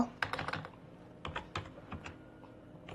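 Keys clatter on a computer keyboard while a receipt entry is typed into accounting software, a quick burst of close taps at first, then scattered keystrokes with short pauses.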